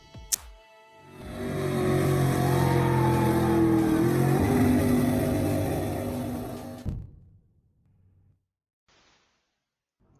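A truck powered by a big low-compression 632 engine with a nitrous setup drives past, swelling from quiet to a loud, steady roar before fading away, followed by near silence.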